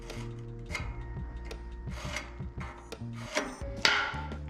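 A marking tool scribes a line across a wooden board while a swing set is being built. Several short scratchy rubbing strokes come close together at an uneven pace. A louder, sharper scrape comes near the end.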